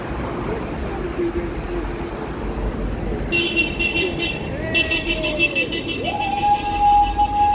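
Passing cars sound their horns in support outside a protest at a drone factory. Several sustained honks ring out over steady road traffic, and voices can be heard in the background.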